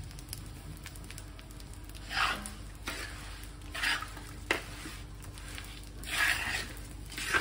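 Steel spatula stirring half a cup of poppy seeds as they roast in a pan, giving soft scraping swishes in irregular bursts over a steady low hiss.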